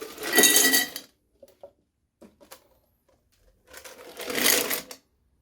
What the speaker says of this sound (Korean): 맨 위에 칸에다가 얼음을 부어주면